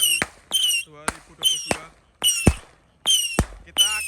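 Roman candle 25-shot fireworks and firecrackers being set off on a Ramadan night, a series of sharp, loud cracks and whistling bursts in an uneven rhythm, about seven shots, with a brief spoken word among them.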